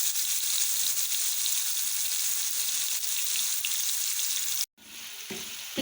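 Spice masala with tomatoes fries for brinjal bharta, a loud, dense, continuous sizzle with brief stirring sounds and a short gap near the end.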